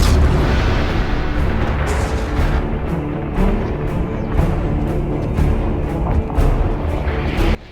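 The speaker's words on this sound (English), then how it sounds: "The event started just like the original rocket launch from Season 4, with it slowly climbing into the sky" Fortnite in-game rocket launch event, the rocket slowly climbing into the sky: a continuous loud roaring rumble with deep booming swells and scattered bursts, sustained throughout with no talking.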